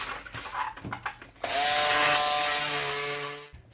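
Fabric for a Christmas stocking being cut out with a power cutter after a template is laid down: rustling handling noises first, then a loud steady whirring drone for about two seconds before it cuts off.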